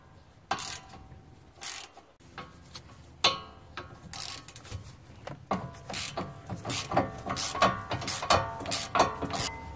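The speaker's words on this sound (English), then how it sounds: "we will need a 15mm socket to remove the two bolts" A 15mm socket ratchet clicks while loosening the caliper bracket bolts on the front brakes of a 2015-2018 Ford Mustang EcoBoost, heard as bursts of close rapid ratcheting separated by pauses.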